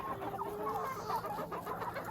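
Free-range chickens clucking steadily at close range, several birds overlapping in a continuous busy chatter of short calls while they feed on leftover lettuce and greens.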